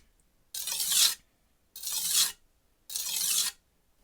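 A Wusthof chef knife is drawn across an ultra coarse Shapton Japanese whetstone in three separate gritty, scraping strokes, each under a second long with short pauses between them. The strokes are close and fairly quiet, and no one speaks.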